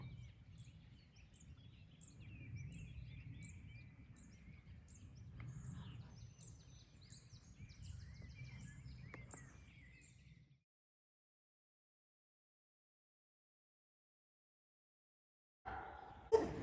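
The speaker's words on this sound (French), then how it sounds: "Je vous laisse juste écouter le chant des oiseaux" Faint birdsong drifts over a quiet country back road near the Garonne valley between Dufort-Lacapelette and Moissac, with small repeated chirps above a soft low hum. Near silence follows, then a brief louder noise at the very end.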